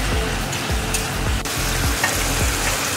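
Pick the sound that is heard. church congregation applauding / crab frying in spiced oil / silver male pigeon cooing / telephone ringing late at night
crab frying in spiced oil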